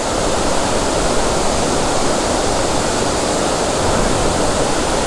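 Sirimane Falls near Sringeri pours in the rain as a loud, close, continuous roar of falling water, unbroken and with no voices.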